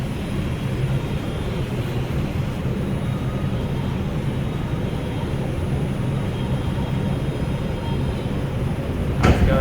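Ride aboard an R142 New York City subway car on the 5 express train, a loud steady rumble and rattle of the moving car with a brief clank near the end.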